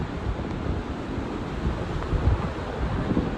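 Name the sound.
heavy rain and floodwater rushing down a waterfall in Fujairah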